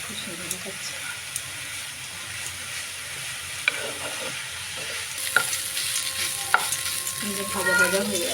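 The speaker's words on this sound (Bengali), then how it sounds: "ভাজা ভাজা হয়ে আসছে, আর একটু হতে দেবো, সেদ্ধ হবে" Vegetable spring roll filling with chili flakes and pepper frying in a pan, a steady soft sizzle with occasional stirring clinks, growing brighter and louder toward the end.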